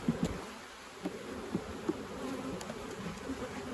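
Honeybees buzz steadily around an opened beehive during a hive split, a dense close hum with individual bees passing near now and then.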